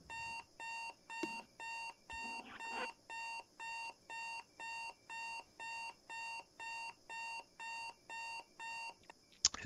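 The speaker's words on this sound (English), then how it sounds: "The alarm clock." An alarm clock rings in regular bursts, a shrill repeating beep pattern of about a dozen evenly spaced pulses, loud and close, with a faint thump or two among them.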